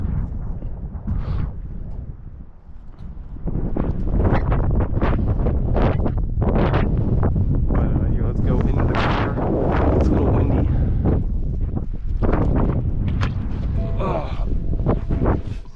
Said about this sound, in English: A little windy outside.